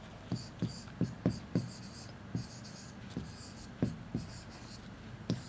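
Marker or chalk strokes tap and scrape across a board while a chemistry diagram is drawn, a quiet irregular series of short close strokes with pauses between them.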